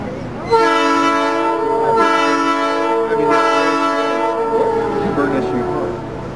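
A heritage railroad train's horn blares loudly in long, sustained blasts over the rumble of rail cars rolling close by.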